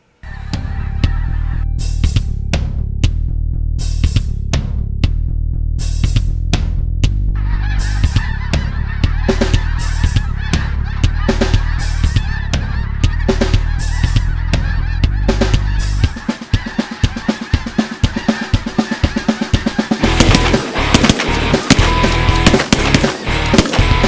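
A huge flock of thousands of snow geese honks and cackles continuously overhead above a field set with decoys on the opening day of a conservation-season hunt, a loud dense clamour with sharp percussive bangs punctuating it throughout.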